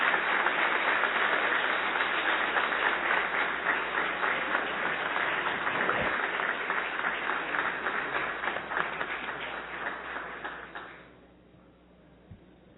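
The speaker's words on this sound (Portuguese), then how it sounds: "Eu peço uma salva de palmas a Aerto Luna." Steady applause in a city council solemn session chamber, sustained and fairly even for about eleven seconds before fading out into near quiet.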